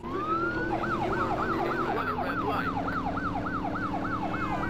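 Police car siren from a pursuing cop in The Driver Syndicate video game, a loud, steady wail rising and falling in a rapid repeating cycle over a low engine rumble, with no talk.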